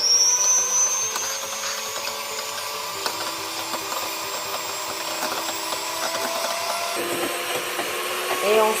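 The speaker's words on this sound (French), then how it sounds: "Donc, je vais battre mes œufs." A five-speed electric hand mixer beats four eggs at its lowest speed, giving a steady, fairly quiet whirr with a slight tonal shift partway through.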